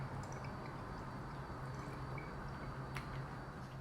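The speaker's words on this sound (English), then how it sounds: "We're gonna add the Worcestershire sauce." Worcestershire sauce poured into a yucca empanada filling, giving a faint, continuous wet trickle with soft drips over a low background hum.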